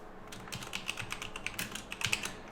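Rapid typing on a computer keyboard while replacing text in a web page builder, a steady run of close, crisp key clicks with small bursts and no talking.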